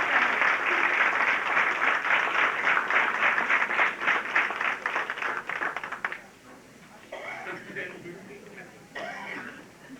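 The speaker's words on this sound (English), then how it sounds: "Let's give a big hand of applause to all the skills typing word processors." Audience applause at a 1986 vocational training center graduation ceremony in St. Louis, a sustained burst of clapping from a crowd for about six seconds that thins into scattered claps and murmurs.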